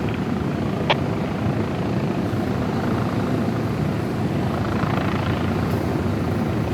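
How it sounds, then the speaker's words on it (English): Steady, loud rotor drone of about four police helicopters overhead near Northeastern University in Boston, a constant chopping roar that fills the whole stretch with no talking. "We got about 4 helicopters up in the sky"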